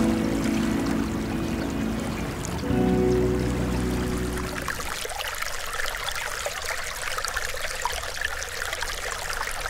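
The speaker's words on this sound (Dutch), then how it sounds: "Hoog op de Veluwe ontspringt de Roosendaalse Beek, die zich een weg baant door de Velperwaarden om in de IJssel uit te stromen." The Roosendaalse Beek, a stream in the Velperwaarden floodplain, flows with a constant watery rush and trickle; a louder droning layer in the first few seconds falls away, leaving the steady flow alone.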